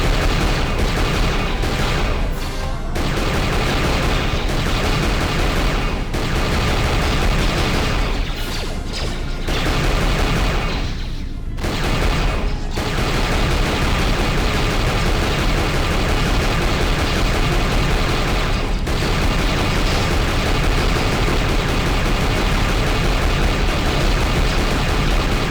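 Ship-mounted gun turrets in KotOR II: The Sith Lords fire in a continuous, loud barrage that barely pauses.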